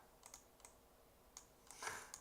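Quiet, sparse clicks of someone typing on a computer keyboard, a few isolated keystrokes followed by a short cluster of taps, faint against a soft room hiss.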